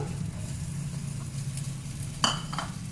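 Faint sizzle of chopped potatoes and onions frying in oil in a karai on a gas stove, a low steady crackle with a brief sharper clatter of stirring near the end.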